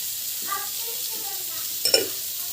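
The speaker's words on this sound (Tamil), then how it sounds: "ஸோ இந்த பக்கம் வந்து கடாய் வச்சுருக்கேன். ஸோ இது வந்து ஆயில் வந்து போடுங்க. ஆயில் வந்து நல்லா காயணும்." Oil heating in a kadai gives a steady low sizzle throughout, with a brief stir or clink of a pot near the end.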